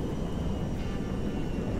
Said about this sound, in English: Just the cargo plane and just flying it over us.